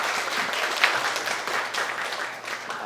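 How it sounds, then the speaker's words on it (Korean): Steady, moderately loud crowd applause at a Korea University environmental talk concert, with a continuous wash of many hands clapping and no letup across the stretch. "다시 한번 큰 박수 부탁드리겠습니다"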